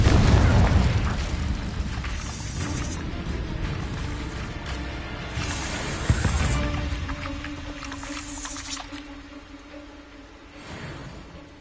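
Spell blasts and booms from the video game Hogwarts Legacy, a heavy rumbling impact at the start, then scattered whooshing bursts and crackles over a continuous droning game score, with shouted spell names among them.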